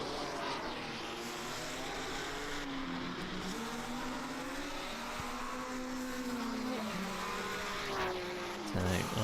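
Several 1967 Formula One cars, among them a Honda and a Brabham BT24, roar continuously in a racing video game. Engines whine and shift pitch as they rise and fall through gears, loud and close, with commentary running over them.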